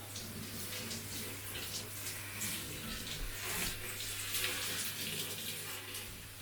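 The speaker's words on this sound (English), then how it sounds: "And the water runs down through the dreads and gets all the soap out." Water runs steadily from a tap while rinsing soap from dreadlocks, a continuous close splashing hiss with a faint low hum beneath and no talking.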